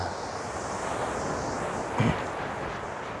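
Surf rolls onto Tunggul Buto beach in a steady, broad roar, with wind buffeting the microphone and a brief louder gust near the middle.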